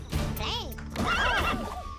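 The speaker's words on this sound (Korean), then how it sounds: "말 아니야?" A horse neighs twice in the rhythm game Headbangers: Rhythm Royale, a loud whinny followed by a longer wavering one over steady game music.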